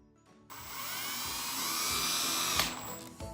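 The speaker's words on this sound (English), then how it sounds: "you're going to want to gain speed, especially if you're drilling into something that's tough" A power drill spinning up and running at speed to drive a screw, a sharp high whine that starts abruptly, holds steady with a slight pitch rise, then winds down, close and loud.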